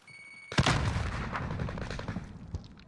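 Gunfire in a Call of Duty match erupts after a moment of near quiet, a loud burst of shots followed by scattered reports and thuds, with no talk over it.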